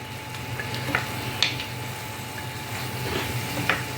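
Cucumber stirred as it fries in a pan gives a low steady sizzle, with a few light scrapes and clicks of the utensil scattered through it.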